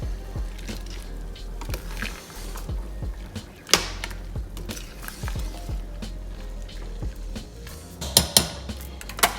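Spoon stirring kale into a pot of spicy vegetable soup, with scattered scrapes and clinks of utensil against the pot over a low steady background, occasional sharper knocks standing out.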